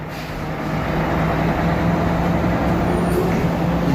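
A steady, loud low rumble from an Almana company truck parked at a Saudi Arabian driver rest area, droning without a break.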